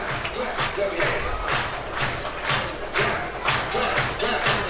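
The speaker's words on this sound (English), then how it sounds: "Everybody clap your hands." Stadium crowd at a baseball game, Auckland Tuatara at Sydney Blue Sox, claps hands in a steady repeated rhythm of distinct beats amid general crowd murmur from a distance.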